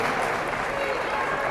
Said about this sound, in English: How about a nice round of applause for the coach and the seniors?